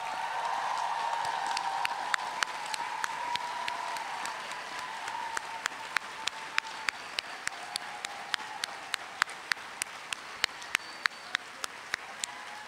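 An audience at a 2011 journalism graduation ceremony applauds the graduates, a steady mass of clapping in which sharp individual claps stand out increasingly toward the end.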